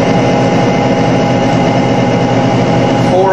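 A motor runs loud and steady under increasing load, a smooth continuous drone with no squeal, close up and with no one speaking over it.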